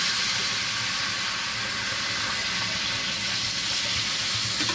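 Steady broadband sizzling and hissing fills a hot pan as water hits it while cooking in a home kitchen, a constant loud wash of steam with no talk.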